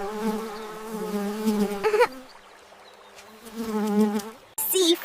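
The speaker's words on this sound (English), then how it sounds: "B for bee." A cartoon bee buzzing sound effect, a steady droning hum that breaks off briefly mid-way and then returns, loud and close.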